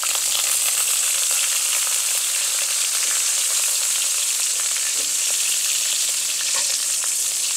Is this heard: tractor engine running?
no